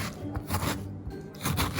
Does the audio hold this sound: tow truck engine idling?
no